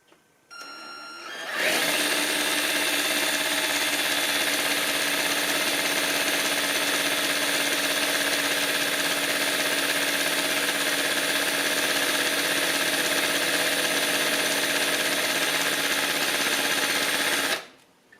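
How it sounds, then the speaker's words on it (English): A steady, loud mechanical whir runs continuously for about fifteen seconds, starting and stopping abruptly: a power drill spinning at constant speed, driving a Yamaha RZ350 oil pump on a bench test. "After that much drill action, it's pumped that much oil."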